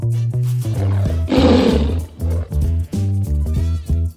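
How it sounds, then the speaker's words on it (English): A tiger roars over a steady background music track, one loud, rough, drawn-out roar near the middle of the clip. "Tiger."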